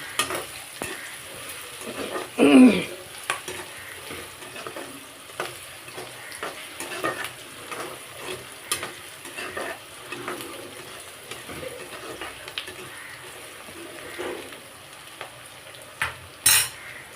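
Amaranth leaf curry with dried red chillies frying in a pan, a low steady sizzle broken by occasional spatula stirs and a couple of louder clanks against the pan.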